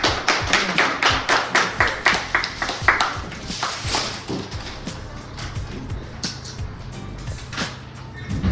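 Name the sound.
audience applause for the speaker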